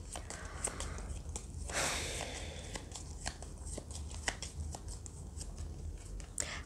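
Tarot cards being handled and shuffled close up, a run of soft papery flicks and snaps with one longer slide in the middle, quiet overall.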